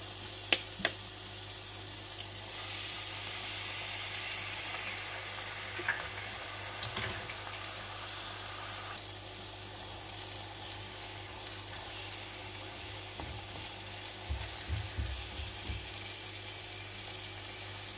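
An egg frying in butter gives a steady, soft sizzle throughout, with a few faint clicks and light scraping sounds near the start and again toward the end.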